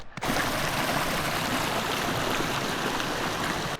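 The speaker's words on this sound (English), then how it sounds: "The river is literally right here" A river rushes steadily close by, a dense, continuous roar of flowing water that starts abruptly and holds without pause.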